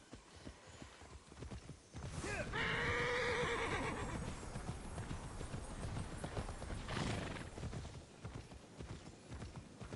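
Horse hooves clip-clop steadily in the game Immortals Fenyx Rising, with a loud whinnying neigh rising over the galloping partway through and a second swell a few seconds later.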